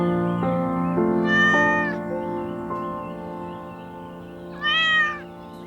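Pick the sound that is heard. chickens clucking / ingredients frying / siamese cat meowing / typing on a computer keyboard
siamese cat meowing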